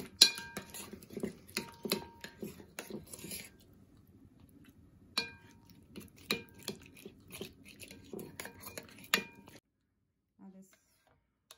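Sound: mixing yogurt marinade with spices in a bowl

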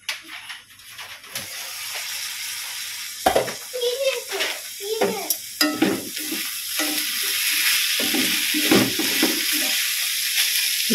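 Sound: sautéing vegetables in a pan for sambar

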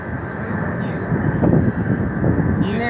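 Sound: airplane flying low over a wildfire

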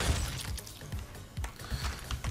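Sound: baseball bat breaking on a hit in Streets of Rogue video game

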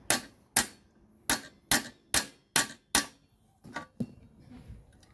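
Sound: hammer tapping metal engine part

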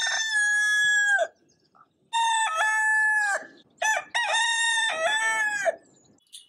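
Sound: rooster crowing

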